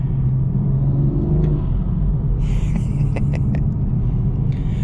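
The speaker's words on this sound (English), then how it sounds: "That's the BMS intake." A tuned BMW 440i with a BMS intake drives along a mountain road, its engine giving a steady loud rumbling drone with intake whoosh and a few sharper rising surges partway through.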